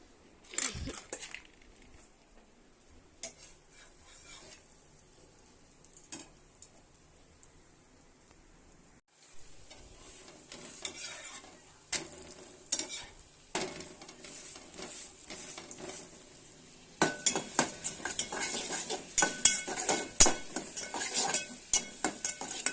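Faint sizzling of a tempering in a hot pan, for a rice dish, with scattered metallic stirring clinks, growing louder and busier toward the end.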